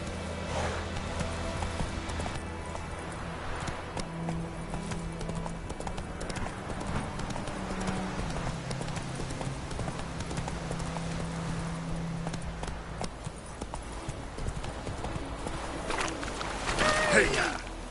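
A horse galloping in The Witcher 3 video game, steady rhythmic hoofbeats under talk, with a voice breaking in near the end.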